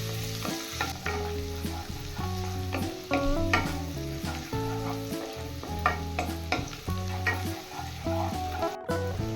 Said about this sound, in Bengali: এবার সবকিছু মিশিয়ে আমি 30 সেকেন্ড ভেজে নেব।